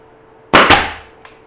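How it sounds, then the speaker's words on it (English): A hammer drives 35mm finish nails into a solid wood bedroom door: two sharp, close impacts in quick succession, then a faint light tap a moment later. "And then simply bang a nail in it, or several."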